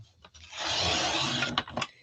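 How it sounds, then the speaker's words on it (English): Thick Stampin' Up cardstock handled up close for a papercraft project, a sustained dry rubbing and scraping rasp swelling for about a second, then a few short sharp crinkles and flicks. "You can hear that. Like, that's just really thick cardstock."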